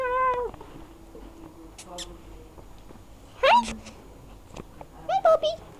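A crying house cat meows a few times in the background, with short plaintive calls spread through the clip under indoor household noise and a person's voice.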